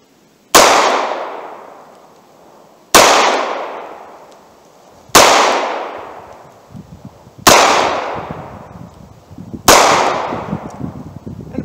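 A snub nose .38 Special revolver fires Monarch JHP rounds at a target: five sharp, loud shots spaced about two seconds apart, each with a decaying echo, and no talk.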